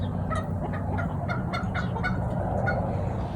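A flock of chickens with a large rooster clucks in quick repeated bursts during an outdoor squabble, steady and nearby over a low rumbling background.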